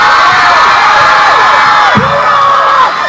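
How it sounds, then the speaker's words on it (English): Loud cheering crowd at a mall book tour event for City of Bones, dense roar of shouts and whoops with high excited voices, sustained throughout. "Give her another round of applause"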